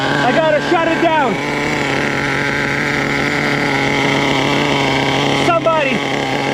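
A nitro engine on an HPI Savage RC truck with a throttle glitch drones steadily and loudly at a high, unwavering pitch, with brief rising revs near the start and again toward the end.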